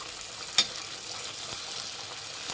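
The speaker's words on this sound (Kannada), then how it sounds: "ಒಂದು ಬಾಣಲಿಗೆ ಎಣ್ಣೆ ಕಾಯಕ್ಕಿಟ್ಟಿದ್ದೆ. ಈಗ ಪೂರಿ ಹಾಕ್ಕೊಳ್ಳೋಣ." Poori frying in a pan of hot oil, a continuous bright sizzle and crackle with a few sharper pops, close and steady throughout.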